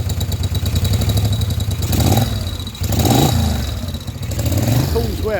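A Moto Guzzi V50 Monza motorcycle runs with a mechanically quiet engine dominated by its exhaust note, rising and falling through several revs close by while talk carries over it.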